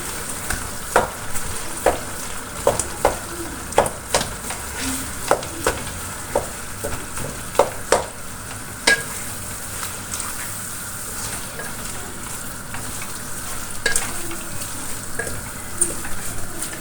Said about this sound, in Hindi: अब हम इसको अच्छे से मिक्स कर लेंगे